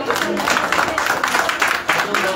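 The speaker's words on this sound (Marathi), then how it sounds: "जोरदार टाळ्या दादांसाठी." A crowd at a tenth-grade class reunion held 23 years later at Shrinath Vidyalaya, Vadapuri, applauds Dada with dense, steady clapping that fills the room and sounds close and loud.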